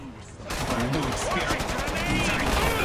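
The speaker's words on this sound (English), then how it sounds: "So you two, follow the gunfire." Rapid automatic gunfire in the Killing Floor 2 video game, a sustained rattle of shots that bursts in after a quiet start and keeps going loudly, with a voice faintly mixed under it.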